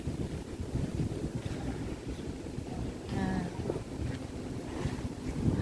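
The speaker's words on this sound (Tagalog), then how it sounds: "Mahangin." Steady gusting wind buffets the microphone, a broad rumbling roar with no one speaking.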